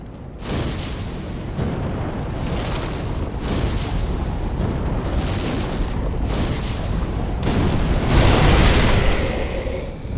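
Exploding barrels blowing up in a dark fantasy action game, a run of heavy booming blasts with rumbling tails, repeating every couple of seconds and loud throughout, with no talk over them.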